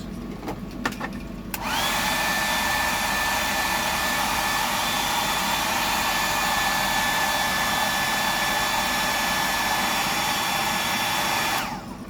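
A handheld dryer blows steadily to dry paint on a custom fishing lure. It starts abruptly after a few clicks, then runs as a loud, even whir with a faint whine for about ten seconds before cutting off.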